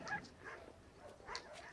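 A male dog in a Siberian taiga setting whimpers and gives a few short, high yips, fairly faint and spaced across under two seconds, with no talking.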